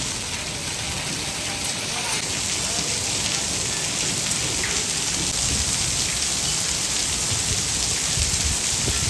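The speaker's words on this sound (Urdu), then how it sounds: "یہ دیکھیں جی بارش کا پانی اتنا زیادہ جمع ہو چکا ہے چھت کے اوپر" Heavy rain pours steadily onto a rooftop where water has pooled during a village wedding, a dense continuous hiss with close splashing, loud and unbroken throughout.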